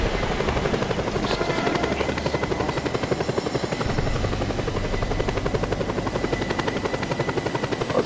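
A helicopter in the video game Just Cause 2 multiplayer drones with a continuous rhythmic rotor chop and engine buzz, loud and close, steady for the whole stretch with no voices.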